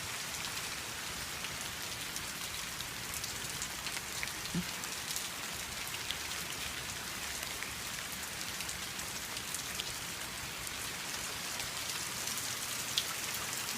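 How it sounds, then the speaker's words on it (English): Steady rain falls at night, a dense, even hiss of drops hitting surfaces that stays constant throughout with no voices. "I had no idea it was supposed to rain tonight."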